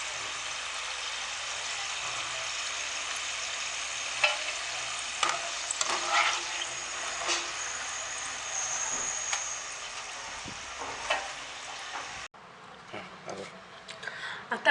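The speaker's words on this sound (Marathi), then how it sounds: "आता आपण याला क्रिस्पी होईपर्यंत त्याला आपण डीप फ्राय करून घेऊ" Potato french fries deep frying in hot oil, a steady dense sizzle with occasional stirring clatter, ending abruptly as the frying noise drops away near the end.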